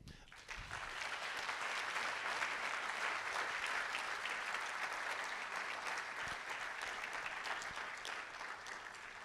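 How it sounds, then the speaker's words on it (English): An audience at a public lecture breaks into applause after a brief quiet moment, then keeps up a full, even roar of clapping that slowly thins toward the end. "let's applaud these people"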